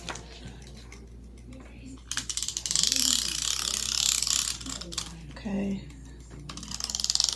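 Tape ripped off a roll while assembling custom snack wrappers for chips and a Pringles can: two long rasping pulls, loud and close, with a brief spoken word at the start.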